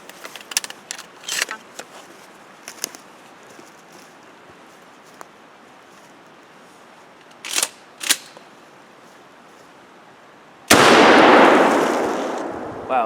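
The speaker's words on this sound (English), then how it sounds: "So now we got number 3 shot." A 12 gauge shotgun loaded with number 3 birdshot fires once, a loud, sharp blast followed by a decaying roar. Fainter clicks and handling noises come earlier.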